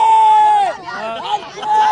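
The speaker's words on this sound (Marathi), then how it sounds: "रिंकूला पाहण्यासाठी भरपूर गर्दी झालेली आहे" A large crowd gathered in Vita, Sangli to see actress Rinku, heard as close, lively babble of many voices with shrill calls and excited shouts.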